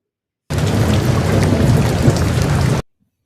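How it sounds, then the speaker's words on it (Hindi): Heavy rain pours steadily in a dense, loud roar, with a faint rumble of thunder underneath; it cuts off abruptly. "बाहर बहुत तूफानी बारिश हो रही है"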